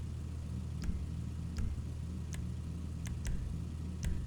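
A Vapid Retinue car in GTA 5 drives back and forth, its mid-pitched engine droning steadily, with sharp ticks recurring at roughly even intervals.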